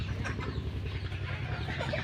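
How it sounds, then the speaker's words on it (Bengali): Desi hens brooding on clutches of eggs in a coop give low, continuous throaty clucking and grumbling, close and steady throughout. "এভাবে মোট চারটা মুরগি তা তা দিচ্ছে"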